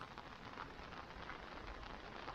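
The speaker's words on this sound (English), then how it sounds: "Only the sound of the rain hitting my umbrella." Rain patters steadily on an umbrella during a wet-season walk, a soft, even hiss of drops with faint scattered taps, quiet and continuous with no voices.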